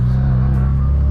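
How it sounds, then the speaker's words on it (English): Mazda RX-7 FD rotary engine at wide open throttle in a hard pull, a loud, steady droning roar heard from inside the car. "This is the first time I'm doing like a hard pull, or that I'll be doing a hard pull in a long time."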